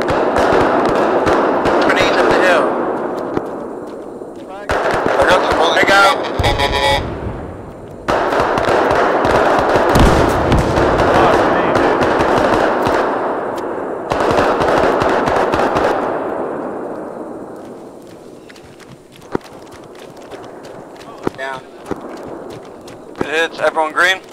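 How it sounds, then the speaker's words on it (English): Bursts of automatic and single-shot gunfire in the ArmA III Vietnam War campaign, loud volleys in several clusters with pauses between, with players shouting and talking over the shooting. "Taking fire, taking fire!"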